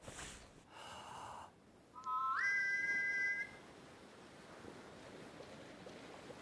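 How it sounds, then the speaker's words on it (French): A whistle blown inside a video game gives a short rising electronic tone that holds for about a second over a soft ocean-surf ambience. "Soufflez dans le sifflet."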